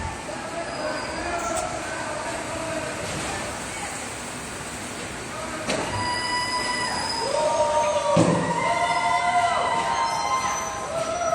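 A subway train in a metro system rumbles steadily through a station, with rising mechanical roar, a few squealing metallic tones from the wheels and brakes, and a loud, continuous presence that swells toward the end.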